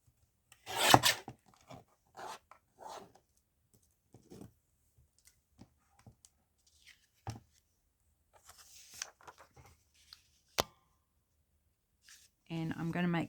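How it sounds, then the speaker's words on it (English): A paper guillotine trimmer slices through paper in a short, sharp rasping cut, with scattered handling rustles and taps around it while a person talks. "I'm going to use my guillotine."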